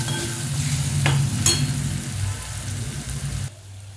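Onion sautéing in a pan for a Marathi tondli (ivy gourd) curry: steady close sizzle with a couple of sharp spatula scrapes near the middle, fading to a quieter hiss at the end.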